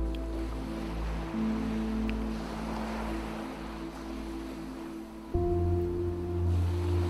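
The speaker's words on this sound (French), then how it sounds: "vous pouvez imaginer que vous vous tenez debout au bord de l'océan, votre regard perdu sur les vagues." Ocean waves used as a calm background for guided relaxation, a soft continuous wash of surf beneath sustained low tonal drones, with a slight shift partway through.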